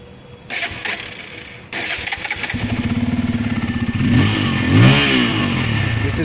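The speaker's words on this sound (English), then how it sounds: "Check the sound of this bike." A Bajaj Pulsar F250 motorcycle engine cranks and fires up close by, settling into a steady pulsing idle before rising through a couple of revs.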